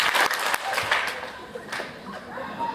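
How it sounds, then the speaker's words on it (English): School band recognition event where the audience claps once after each name is read, giving a few quick bursts of applause mixed with scattered laughter and murmured talk from the crowd. "Maybe we could do one clap after each, huh?"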